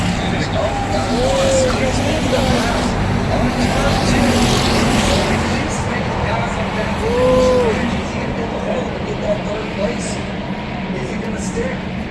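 Cars race at speed around the track at the Cleetus Indy 800 with a constant distant engine roar. Commentators talk over it throughout.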